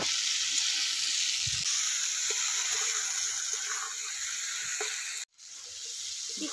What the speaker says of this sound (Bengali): এবার এই আমগুলো তেলের মধ্যে দিয়ে দিচ্ছি